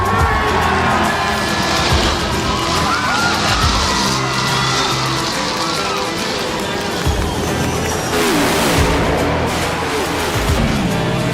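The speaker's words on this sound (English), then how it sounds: "Gentlemen, start your engine." Stock car engines fire up and roar in a NASCAR racing video game at Dover Speedway, with crowd cheering and whooping mixed in throughout and engine pitch sweeping up and down.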